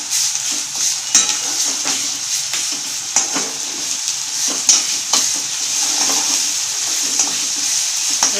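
Ginger garlic paste and onion fry in oil for a spicy Indian chicken gravy, giving a continuous loud sizzle. Scraping stir strokes in the pan recur as the mixture is stirred.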